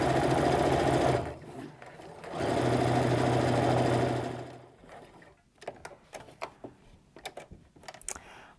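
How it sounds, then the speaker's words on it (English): A domestic sewing machine stitches a seam on an apron in two steady, close bursts, then stops, leaving small clicks and handling taps of fabric and machine parts. "Now we're gonna sew that quarter inch seam or half inch seam."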